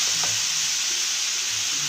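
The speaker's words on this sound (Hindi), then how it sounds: "अब हम इसको अच्छी तरीके से मिक्स करेंगे" Cabbage and egg mixture with spices being stirred in a pan, a steady close sizzle of frying with soft scraping stirs throughout, no talking.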